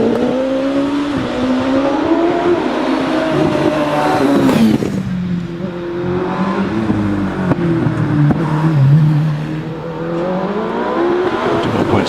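OMS 28 RPE 2.7 litre race car at a hillclimb, its engine revving hard and climbing through gears with rising and falling pitch, loud and close throughout.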